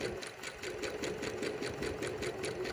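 A sewing machine runs a 5/8-inch shirt tail hem, close and alone, with a fast, even stitching rhythm over a steady motor whir.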